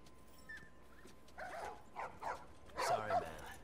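Dogs in the video game The Last of Us give several short yips and whimpers in bursts, fairly quiet amid low background ambience, with a louder cluster near the end.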